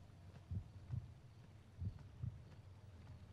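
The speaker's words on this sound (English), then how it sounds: "Why is my heart beating?" Faint, muffled double-thump heartbeat pulses from the PS2 horror game Kuon, repeating at a steady slow rhythm in otherwise quiet game audio.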